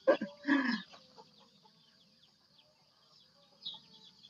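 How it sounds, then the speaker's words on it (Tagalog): A few soft chicken clucks at the start, then near silence with faint rustling and one more short cluck near the end. "Kaya tawag ay manok ni San Pedro"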